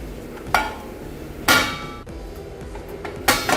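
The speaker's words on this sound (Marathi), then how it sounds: "यावर आपण एक झाकण ठेवूया" A metal lid is set onto a pan on a stovetop over medium gas, giving three distinct clanks spaced about a second apart, close and fairly loud.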